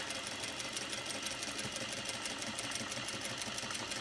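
A sewing machine back-stitching a cargo pants pocket runs steadily at close range, its fast even needle chatter forming a constant mechanical whir with no voices.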